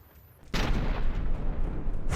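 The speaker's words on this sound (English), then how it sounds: "there the armor held the shell off pretty nicely." Tank gun firing in a World of Tanks-style armored battle game, a sudden heavy boom that cuts in after half a second of quiet and leaves a long, loud rumbling blast with debris-like crackle, another impact at the end.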